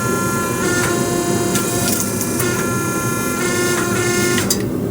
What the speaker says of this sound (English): We're going to use this hydraulic press here